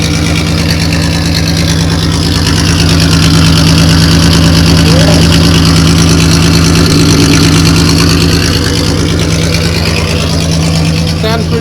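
A pickup truck engine idles loudly and steadily up close, a constant low rumble with a busy mechanical hum that holds without breaks for the whole stretch.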